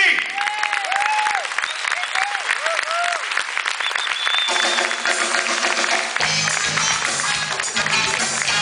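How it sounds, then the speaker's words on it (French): An award-ceremony audience applauds in loud, sustained clapping with some crowd noise, while a voice speaks over the start before the clapping carries on alone. "messieurs, vos applaudissements pour Mimi Nelsy"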